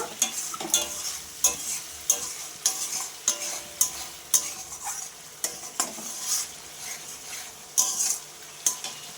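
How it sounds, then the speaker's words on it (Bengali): A spice masala thinned with a little water is stirred in a pan for a jackfruit and prawn curry, giving repeated rhythmic scraping and clinking strokes over a soft steady sizzle, close up. "এবার আমি আবার একটু জল দিয়ে দিচ্ছি দিয়ে মশলাটার সাথে আমি ভালো করে মিশিয়ে নেব"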